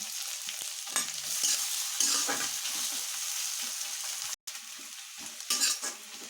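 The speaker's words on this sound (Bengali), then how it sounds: "কড়াই বসিয়ে দিয়েছি, তেল গরম হয়ে গেছে। দিয়ে দিব একটু গোটা জিরা, দিয়ে দিব কুচানো আদা, রসুন, কাঁচা লঙ্কা, দেব পেঁয়াজ কুচি" Cumin, chopped ginger, garlic, green chili and onion crackle in hot oil in a kadai, giving a loud, steady sizzle with brief stirring scrapes and one short break.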